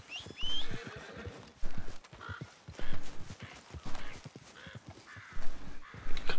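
Horse hooves in Red Dead Redemption 2: irregular clip-clop footfalls in bursts at moderate loudness, with a brief whinny near the start and faint bird calls in the background.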